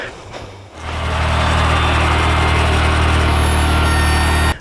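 A Ventrac compact tractor fitted with a stump grinder attachment starts up and then runs at a loud, steady drone that holds close and constant.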